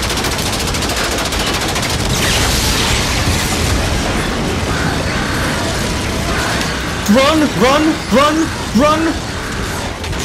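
Gunfire and explosions in the video game Infinite Warfare, a dense continuous roar of shooting under excited talk, with a short burst of sharp repeated bursts near the end.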